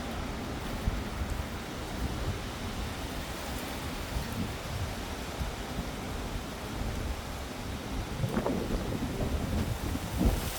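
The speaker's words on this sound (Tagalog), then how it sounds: "The wind blowing." Strong tropical storm wind roars continuously across the microphone at West Palm Beach, Florida, a dense rushing buffeting with gusts swelling louder toward the end, no voices.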